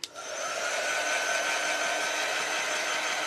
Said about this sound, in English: So we're going to dry this real quick.